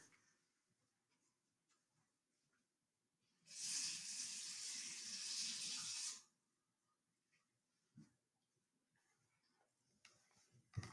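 Tap water running into a container for mixing oobleck from cornstarch and water, a loud steady hiss of flowing water lasting about three seconds between quiet stretches with a few faint knocks before and after.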